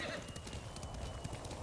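A horse named Kage in Ghost of Tsushima, hooves clip-clopping in a steady gait with a whinny at the start.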